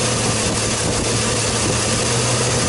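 A Chevrolet Silverado engine with a misfire runs loud and close in a steady, rough drone that holds throughout, with no talk.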